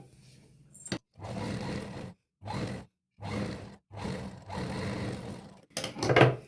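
Sewing machine stitching fabric for double layer curved sleeves in several whirring runs of one to two seconds each, separated by short silent pauses, close and steady.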